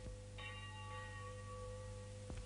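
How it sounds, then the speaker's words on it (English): Church bells ringing for early mass in a small Belgian brick town, faint sustained tones with a lingering hum beneath them and a fresh strike near the end. "Church bells were ringing, calling the devout Belgian people to early mass."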